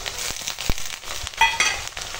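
Ginger-garlic paste hitting lightly fried onions in hot oil gives a brief crackling sizzle, with a few sharp clatters of a spatula against the pan over a steady frying hiss.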